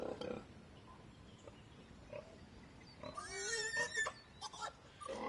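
Faint pig oinks and grunts in a Thomas and Friends Sodor video game, a few scattered calls with a busier cluster midway, heard at a distance over a low background hum.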